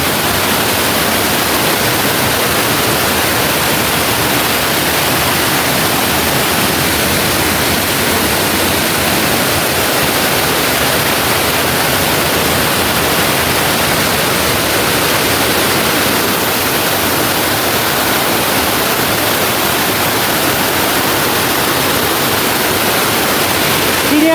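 Sap Sa Kaeo waterfall at Ban Khao Phloeng pours in a steady, loud, unbroken roar of falling water that fills the whole scene without pause, heard up close with no other sounds standing out.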